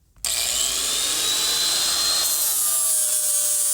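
An angle grinder dresses down welds on newly fitted rocker panels, spinning up abruptly and then grinding in one loud, sustained, high-pitched whine up close.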